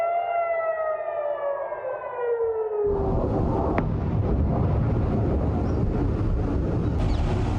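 An air raid siren in Jerusalem wails, sweeping up and down for a few seconds, then a loud roar of explosive rumble and noise swells and continues to the end.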